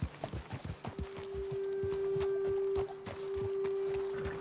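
Horses walking on a trail in the video game Red Dead Redemption 2, a steady series of hoof clip-clops close by, with a sustained tonal hum running underneath from about one second on.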